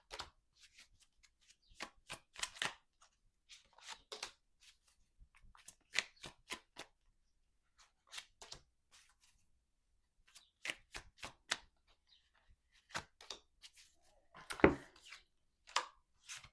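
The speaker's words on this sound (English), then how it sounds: "I didn't shuffle correctly last time I shuffled" Tarot cards are shuffled in short riffling bursts, crisp snaps and flutters repeated at uneven intervals with quiet gaps between, close by.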